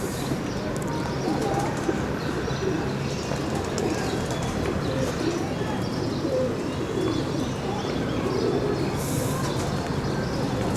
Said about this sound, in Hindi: लेकिन ये ओरिजिनल कबूतर है।